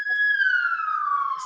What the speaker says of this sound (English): Because the sirens is on